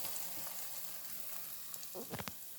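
Eggplant milk curry sizzling and crackling in a hot pan, a steady close frying hiss with a few louder spits near the end as it is stirred, no voices.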